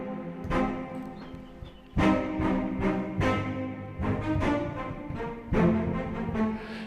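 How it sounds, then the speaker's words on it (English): An orchestral sample played in a recorded room with an extra reverb layer added on top, so the full ensemble chords swell and ring with a long wash of tail between entries. "Now let's add in the sound of the extra reverb finishing."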